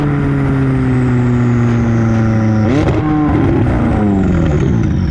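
McLaren 600LT loudly downshifting up close: a high engine whine slides down, then a sudden drop in revs brings crackling exhaust pops and a burbling rumble.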